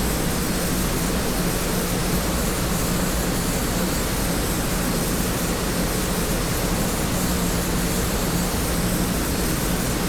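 An A-29B propeller aircraft in a flight simulator drones with a continuous, steady engine and airflow roar, unchanging and fairly loud for the whole stretch.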